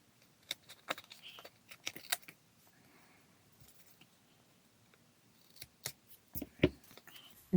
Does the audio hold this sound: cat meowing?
no